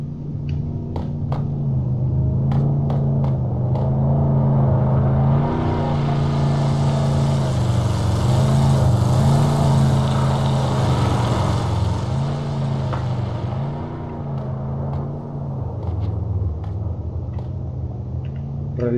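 A steady car engine drone in the video game Ring of Elysium runs throughout, with a low rumbling hum and shifting pitch as if accelerating and easing off, fairly loud and continuous.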